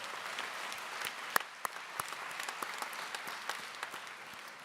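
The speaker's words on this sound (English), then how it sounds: "let's give everybody a great big round of applause for this day" Distant, fairly faint applause from a university commencement audience in a large hall, a steady patter of many hands with a few sharper claps standing out.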